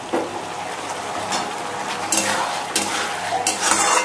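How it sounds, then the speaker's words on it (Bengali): Potatoes fry in oily mutton curry masala in a pan, giving a close sizzle with several sharp stirring scrapes and light utensil clinks, loud and without speech. "আলুগুলো দিয়ে একটু কষে নেবো।"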